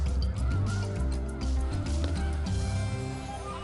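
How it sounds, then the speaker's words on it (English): Migrating snow geese stopping over in Delta, Utah, honking steadily as a dense flock, the calls layered and continuous over a low rumble. "come celebrate the retreat of winter with thousands of snow geese as they stop in Delta, Utah on their migration north"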